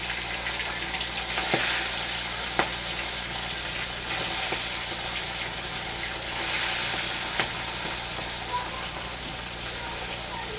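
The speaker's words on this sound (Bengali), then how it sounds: "কড়াইয়ে তেল দিয়ে আমি মাছটা ভাজতে শুরু করবো" Pabda fish frying in hot mustard oil in a wok, a steady broadband sizzle with a few sharp spatters and pops, close and continuous throughout.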